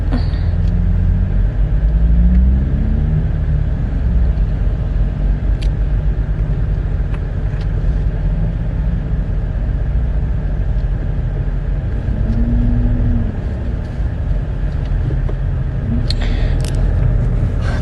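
Heavy road traffic in a jam gives a continuous low rumble of idling and creeping cars, with occasional engine swells and faint distant clicks, loud and steady for the whole stretch.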